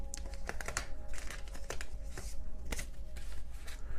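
Tarot cards being gathered up and shuffled off a reading board, giving close, quiet papery slides, taps and crinkles in an irregular run of soft bursts over a low steady hum.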